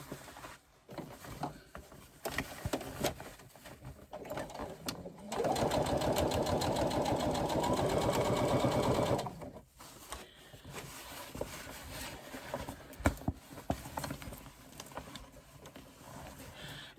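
A sewing machine stitches a long, even seam along the side of a backpack base, running in a steady continuous burst for several seconds, surrounded by quieter handling noises and brief pauses before and after.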